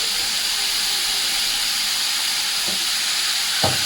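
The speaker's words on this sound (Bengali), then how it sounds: "চিকেন কিমাটা দিয়ে ভালো করে কষাতে হবে।" Chicken mince sautéing in a pan over lowered gas gives off a dense, even hiss and sizzle throughout, with one or two soft knocks near the end, steady and close.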